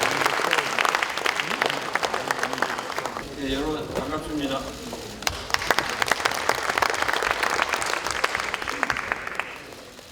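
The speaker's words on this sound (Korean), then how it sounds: "큰 박수 나오겠습니다" Applause from an audience at a Democratic Party lawmakers' workshop, a broad steady clapping wash that runs through the whole stretch, easing briefly midway while someone speaks a short greeting over it, then swelling again.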